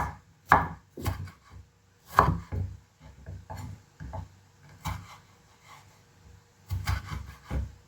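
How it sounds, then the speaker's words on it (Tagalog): Tomatoes being cut with a knife on a wooden cutting board, a string of irregular, fairly close thuds and scraping slices with short pauses between bursts. "isit aside po natin at iwain na natin tong ating kamatis"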